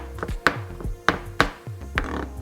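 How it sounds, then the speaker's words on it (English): A knife mincing garlic cloves on a cutting board gives sharp, close chops at an uneven quick pace, each hit a distinct thunk followed by a short tail, with no voices. "Let's do about 4 cloves of garlic. Get a decent mince."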